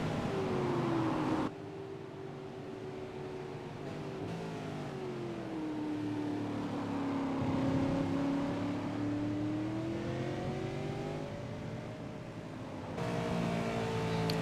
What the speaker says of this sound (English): we jump on board the Tats.com Falcon of Madison Down, where he's going to begin his hot lap